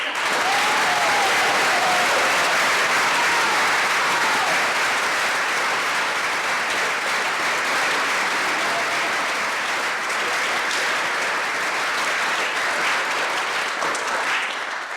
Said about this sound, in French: Et maintenant, je vous demande d'applaudir Marie-Alice Gardner pour le rôle d'Alice.